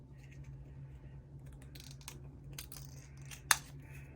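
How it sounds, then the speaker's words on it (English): Old pair of scissors snipping about an inch off a piece of craft material, faint quiet snips with one sharp louder cut near the end, no talking. "So I'm going to go ahead and cut about an inch off of mine."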